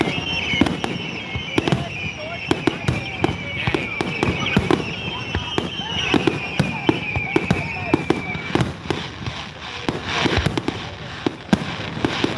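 Repeated fireworks blasts and crackles boom in quick succession at the Milan Fair, with a long whistling streak overhead and a crowd murmuring beneath.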